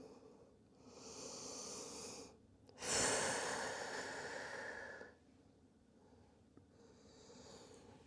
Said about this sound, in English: Big belly breaths.